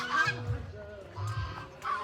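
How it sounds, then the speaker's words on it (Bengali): Geese honk repeatedly nearby at a pond in a dragon fruit garden in Baruipur, several loud nasal calls in bursts with short gaps between them. "ওই দেখ কত হাঁস।"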